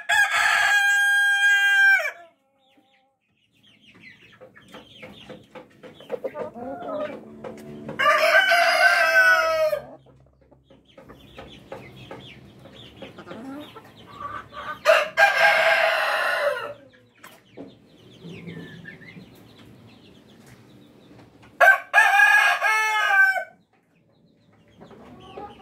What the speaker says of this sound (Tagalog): Rooster natin.